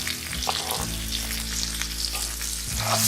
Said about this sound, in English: Now roast the onions in a medium flame.